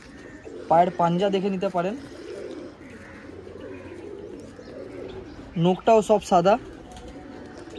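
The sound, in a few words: pigeons cooing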